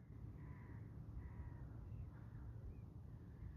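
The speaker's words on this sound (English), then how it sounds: "Raven" A raven caws along a riverside walking path, giving around four hoarse calls spaced through the stretch, faint and distant over a low outdoor rumble.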